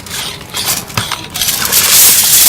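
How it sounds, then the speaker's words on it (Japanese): Aluminium foil is handled to wrap a roast beef seared over a campfire, with crisp crinkling and rustling that builds into a steady bright rustle, loud and close. "使うのが、じゃん、アルミホイルです"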